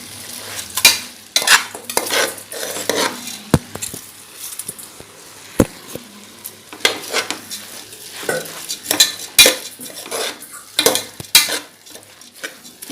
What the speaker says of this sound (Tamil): இதுலயே நம்ம அரிசியை போட்டு ஒரு வதக்கணும்.